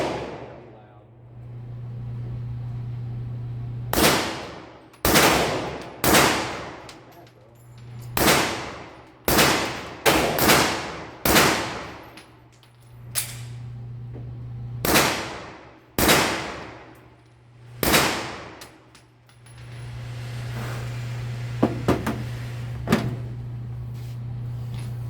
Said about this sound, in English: Here is a Glock 23 with a conversion barrel, and I have my Gemtech Lunar 9 in the short configuration,